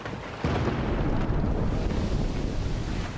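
Cannon fire slams into a ship's wooden hull during a naval battle in Pillars of Eternity II: Deadfire, a sudden heavy boom that swells into a sustained, loud low rumble lasting several seconds.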